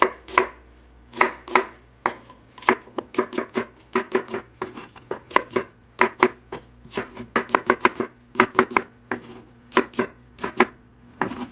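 Rapid, steady knife chops of green onion on a cutting board, dozens of sharp close taps in quick bursts with brief pauses, no talking.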